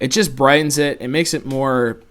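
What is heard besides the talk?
No everyday noise stands out behind the speech.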